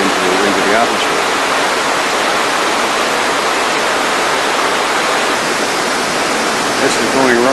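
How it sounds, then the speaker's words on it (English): A hydropneumatic air power plant blows off, releasing air and water at about 122 pounds of pressure in a continuous loud roaring hiss, like a waterfall, that holds steady throughout. "This is the blow-off after the air plant builds up pressure and it gets over its pressure."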